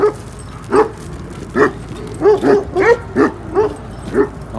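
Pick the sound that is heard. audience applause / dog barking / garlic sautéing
dog barking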